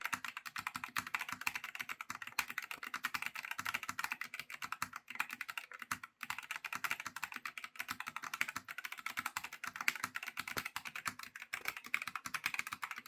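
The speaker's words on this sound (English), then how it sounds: "It's more like a muffled sound when you're typing on it." Steady, fast typing on a Turtle Beach Vulcan II TKL keyboard, with soft, muffled keystrokes in a dense continuous patter at moderate closeness and no talking.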